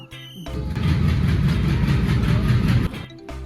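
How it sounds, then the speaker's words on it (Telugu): A passenger train at Secunderabad station, a loud, rumbling roll with dense rhythmic clatter building quickly, holding steady, then cutting off near the end. "నేను టికెట్ తీసుకున్న గ్యాప్ లో మన ట్రైన్ వచ్చేసింది."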